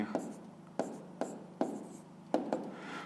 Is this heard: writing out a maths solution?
yes